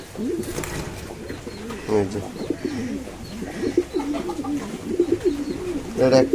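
Fancy pigeons, including a pink satin pair, coo in a loft during rain, their throaty rolling calls repeating nearby while someone talks over them.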